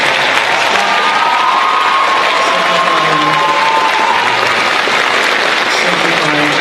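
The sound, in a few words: applause for the graduating students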